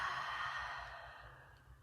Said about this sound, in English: So inhale, big breath in. Open your mouth, exhale.